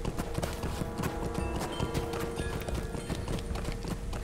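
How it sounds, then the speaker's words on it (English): Horse hooves clip-clop in a quick, steady galloping rhythm as a mount is ridden through the Lord of the Rings Online game world, loud and close with faint game ambience beneath. "It's so much better being able to ride a horse through here."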